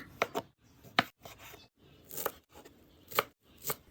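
A knife chops tomatoes, spring onion and cilantro on a cutting board, crisp close knocks in an irregular sequence of single strokes and short pairs with quiet gaps between.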